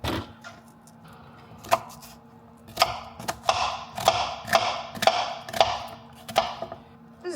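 A dull kitchen knife chops an onion into big chunks on a board, about a dozen sharp, fairly evenly spaced knocks that speed up slightly toward the end; close, with no voices.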